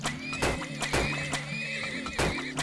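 A horse neighs and whinnies in the video game Turmoil, with repeated loud whinny calls and clip-clop hoof sounds over a steady game background.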